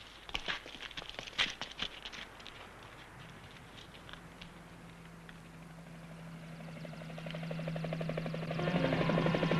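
A helicopter engine in a 1967 Japanese monster film starts faintly beneath scattered crackling and clattering, then its steady rotor drone swells louder toward the end.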